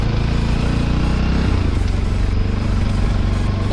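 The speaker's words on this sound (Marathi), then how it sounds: "दादूची गाडी चढत नव्हती" A vehicle engine revs hard and steadily while stuck on a climb, loud and close, holding a continuous labouring drone with slight pitch shifts and no talk.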